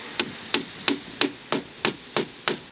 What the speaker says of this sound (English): I've just secured that with a 30mm copper roofing nail